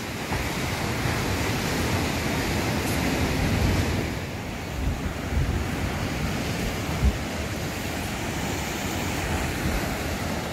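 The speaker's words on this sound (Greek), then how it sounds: "Καλώς ήρθατε στον ωκεανό του Βαραδέρο." Atlantic ocean surf rolls onto Varadero beach in Cuba in light rain, a steady broadband wash of breaking waves mixed with gusty wind buffeting the microphone, with no talking.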